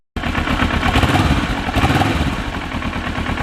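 A Kawasaki Ninja 650R motorcycle engine running at fast idle, a steady, loud, close mechanical thrum with rapid rhythmic pulsing that holds even throughout and eases slightly toward the end.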